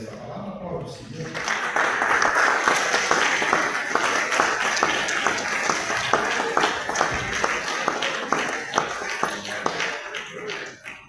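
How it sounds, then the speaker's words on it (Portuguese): A church congregation claps together in a dense, rhythmic burst that starts abruptly, holds steady for several seconds with sharp individual claps and some voices mixed in, then stops near the end. "aplaudir o Senhor por essa palavra. Aplaude o Senhor."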